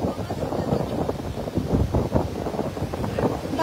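A strong river current in Kashmir churns close by, its rushing wash mixed with gusty wind buffeting the microphone and a faint voice underneath.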